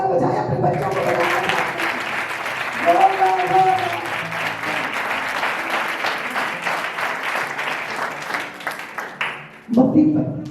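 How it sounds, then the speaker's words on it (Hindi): Mothers in a church congregation applaud their children with sustained, dense clapping that carries on for several seconds under scattered voices, then tapers off near the end. "माए जरा तालियां बजाएं अपने बच्चों को बजाएं।"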